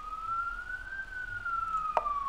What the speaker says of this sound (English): Oh my god, ambulance,